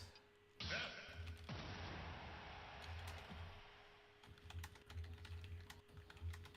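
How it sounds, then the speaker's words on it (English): Rapid typing on a computer keyboard during a live stream, quiet clusters of clicky keystrokes that come in irregular bursts over a steady background hum, with faint speech mixed in. "Stop typing during my stream."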